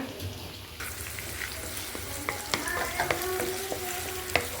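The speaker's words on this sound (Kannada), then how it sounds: "ಸ್ವಲ್ಪ ಈರುಳ್ಳಿ ಚೆನ್ನಾಗಿ ಫ್ರೈ ಮಾಡ್ಕೋಣ" Onions frying in oil in a pan for sambar, a steady sizzle broken by scraping and clinking as a spoon stirs them.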